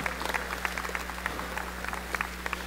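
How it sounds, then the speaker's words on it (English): A small audience at a basketball player development clinic gives a round of applause, scattered claps patter steadily and fairly quietly over a low hum. "So maybe give him another round of applause"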